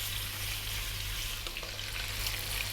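Fatty belly pork sizzles and spits in a hot pan, a steady bright hiss of rendering fat running throughout with a low hum underneath and faint clicks of stirring.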